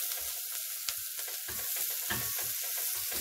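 Half a small onion frying in a very little oil while being stirred, a soft steady sizzle broken by low scraping thuds of the spoon at irregular intervals.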